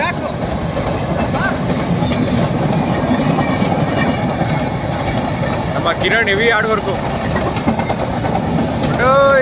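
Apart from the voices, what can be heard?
express train passing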